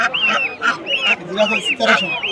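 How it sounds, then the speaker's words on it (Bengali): Chinese geese honk again and again at a rural duck and chicken market in Kakorkandi, Nalitabari, Sherpur, with harsh, nasal calls overlapping close by and faint voices underneath. "এই যে দেখেন পাশে চীনা হাঁস নিয়ে হাসছে অনেকগুলো চীনা হাঁস"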